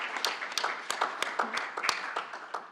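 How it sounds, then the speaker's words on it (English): Scattered applause from a small workshop audience, with thin, sparse claps that stay fairly quiet and uneven throughout. "a word of thanks and an applause for a very wonderful group"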